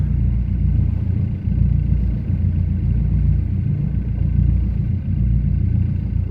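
Cars roll off the Reedham ferry on the Norfolk Broads with a steady, deep engine rumble that holds at one level throughout, with no voices.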